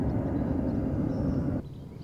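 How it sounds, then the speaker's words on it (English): An airplane passes overhead in open countryside far from any airport, a steady broadband roar that drops off abruptly near the end. "the planes, they keep flying over"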